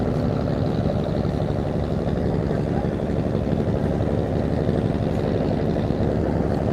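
Passenger launch MV Faran Pass pulling away from Hakimuddin ghat bound for Dhaka, a steady, dense engine rumble that holds evenly throughout with no breaks.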